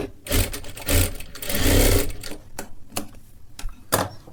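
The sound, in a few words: sewing machine stitching fabric for a sleeve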